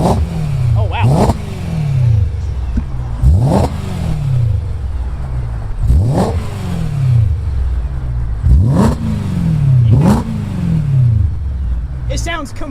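A stock 2008 BMW E92 M3 V8 roars in five repeated rising surges, each climbing sharply then dropping, loud and close with occasional voices around it.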